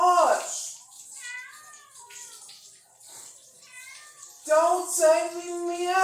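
A house cat meows several times in a home kitchen, with one drawn-out cry at the start and louder, wavering meows near the end; water runs faintly and voices talk around it.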